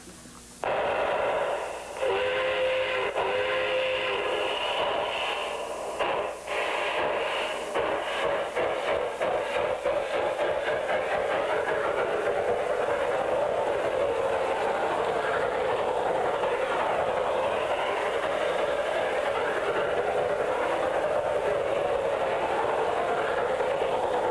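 Rattling, rhythmic clatter of a toy electric train running continuously, with a mechanical hum and brief whistle-like tones early on.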